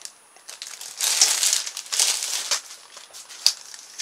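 A thin hollow plastic expanding trellis from a budget store is handled up close, giving bursts of crinkly, crackling plastic rattles and clicks over a few seconds.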